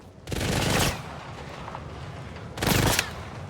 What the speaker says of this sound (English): Where are we shooting from?